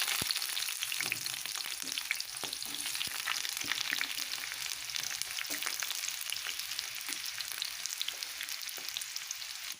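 Chopped onions sizzle and crackle steadily in hot oil in a pan, a dense continuous frying hiss with small pops throughout, close and fairly loud with no talk.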